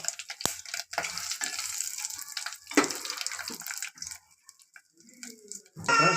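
Bay leaf and spices fry in oil for a soybean masala gravy. Close, hissing sizzle comes in uneven bursts, thins to near quiet, then flares up loudly again at the end.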